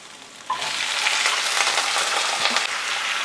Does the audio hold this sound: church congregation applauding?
no